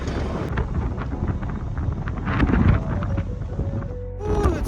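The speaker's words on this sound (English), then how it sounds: "Ooh, it's windy out here today," Strong outdoor wind buffets the microphone at an oilfield site, a steady broadband roar with louder gusts around the middle and end, no voices heard.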